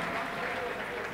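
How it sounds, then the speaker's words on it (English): Crowd applauding at a basketball game for a dance team, a brief dense wash of clapping at moderate distance in an arena. "Round of applause to the ladies of the Skechers dance team."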